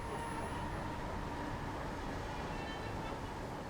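An HST high-speed train rushing past in the Train Sim World 5 game on the West Somerset line, a steady broadband rumble and roar holding level throughout without a clear rise or fade.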